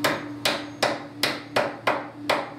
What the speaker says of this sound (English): I'm going to pat them down with a good hard hammer until the teeth